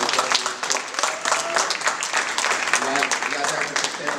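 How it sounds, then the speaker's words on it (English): An audience claps at a community talk-show style event, a dense steady wash of applause lasting a few seconds with some crowd voices mixed in. "can we get a round of applause?"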